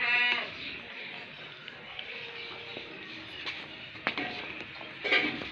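Makhi cheeni dairy goat bleating on a farm, a few nasal bleats and calls over steady outdoor background noise, with faint footsteps and occasional voices nearby.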